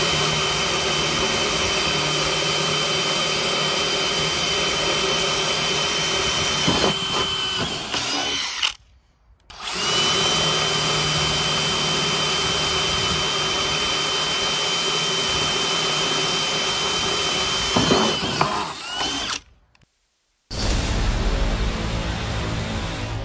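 Makita DF001G and DeWalt DCD999 cordless drills run at maximum speed, producing a loud, steady high-pitched motor whine that holds for several seconds, cuts off abruptly, then starts again, with no talk.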